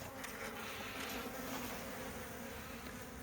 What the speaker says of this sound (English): Luckily, I can see bees coming out there.